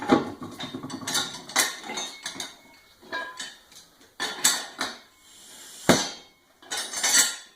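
A Harbor Freight manual tire changer breaks a tire bead with repeated metallic clanks, creaks and ratcheting strains in irregular bursts, close and fairly loud, with short pauses between efforts and no talking.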